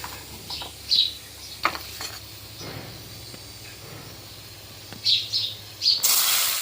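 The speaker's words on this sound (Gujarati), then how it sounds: "તો રાઈ નાખી દેવી ઘાણી નાખી દેવી" Mustard seeds hitting hot oil, giving a steady sizzle and crackle with a few sharper spattering bursts, close and fairly loud with no talk.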